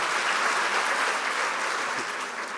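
Steady, dense applause from an audience at an animation awards event, filling the clip evenly without pause.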